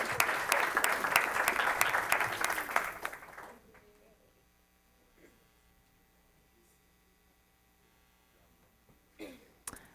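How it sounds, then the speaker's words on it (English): A school board meeting audience applauds loudly and steadily for about three and a half seconds, then the clapping stops abruptly and leaves a quiet room with low electrical hum and a few faint stray noises. "All right, one more round of applause."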